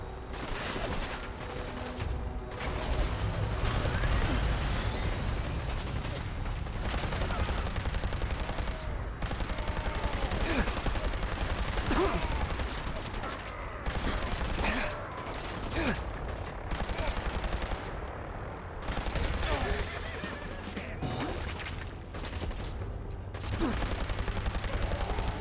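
Sustained gunfire in the video game Fallout 4, with fusillades and machine-gun bursts rattling almost continuously and fairly loud, broken by brief lulls and mechanical clicks, with no talk.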